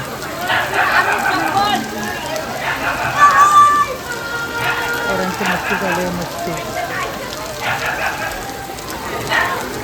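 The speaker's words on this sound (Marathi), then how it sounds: "भरपूर पाऊस पडतो" Steady rain pours down with a constant hiss, while people talk over it throughout.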